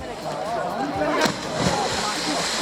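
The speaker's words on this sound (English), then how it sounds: "And a fairly big splash from such a petite man" A man's cannonball jump into a pool sends up a splash and sloshing water, a sharp impact burst followed by churning water, with people talking nearby.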